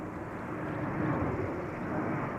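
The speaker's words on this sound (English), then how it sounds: "Going to Leipzig, A300 600 DHL." Steady broadband roar of a DHL Airbus A300-600 cargo jet on its takeoff run at Amsterdam Schiphol, bound for Leipzig, fairly close and loud throughout, with no voices.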